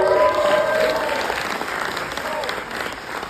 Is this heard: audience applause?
yes